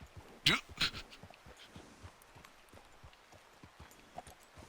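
Horse hooves clip-clop a few times in Red Dead Redemption 2, a couple of loud, close, sharp strikes early on, then faint scattered footfalls under quiet game ambience.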